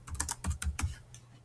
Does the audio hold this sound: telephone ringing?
no